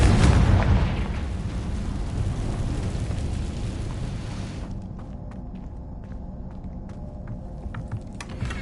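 Confringo spell explosion in Hogwarts Legacy, a loud booming blast at the start followed by a rumbling, crackling tail that settles into lower debris noise and scattered small pops.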